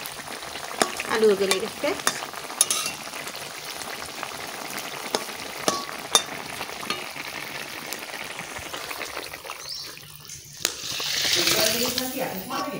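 Shrimp fry in a pan with greens and potato, giving a steady, crackling sizzle with stirring scrapes throughout, while a person talks over the cooking.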